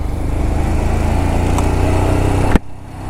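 A motorcycle engine runs steadily on a road trip toward Delhi, a loud, close, throbbing idle that carries for most of the span before a sharp click and an abrupt drop in sound.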